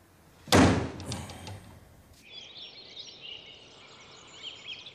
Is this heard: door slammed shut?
yes